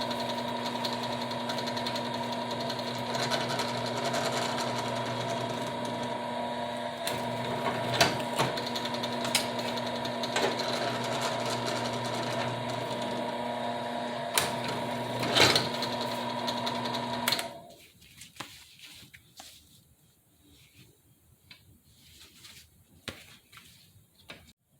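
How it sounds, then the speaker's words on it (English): A drill runs steadily and close for about seventeen seconds while boring holes through splint plates for a scrap-built armor vambrace, with ticking knocks throughout, then cuts out, leaving only faint handling noises. "Here I'm drilling holes to attach buckles and straps to the Vambrace."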